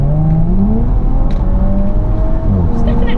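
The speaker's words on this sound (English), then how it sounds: "It's not got an obscene exhaust note when it's in dynamic, but it's definitely" A 2017 Audi S4 in dynamic mode gives a steady, fairly loud engine and exhaust drone with rising and falling tones as it pulls through the gears, heard from inside the car.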